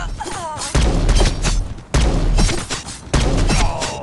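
Three loud gunfire bursts from the mobile shooter game Guns of Boom, each a heavy booming volley with a ringing tail, spaced about a second apart, with faint chatter in the background.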